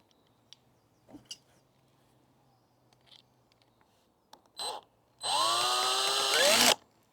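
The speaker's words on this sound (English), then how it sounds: "get your drill" A power drill runs in one sustained burst, whining up in pitch for about a second and a half, as it drives a bolt hole into an upright. Faint knocks and handling clicks come before it.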